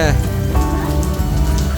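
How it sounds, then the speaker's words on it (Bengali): Heavy rain pours down in a dense, steady roar near the Dawki River, with a voice briefly audible at the start. "মিষ্টি হচ্ছে বৃষ্টি পড়ছে"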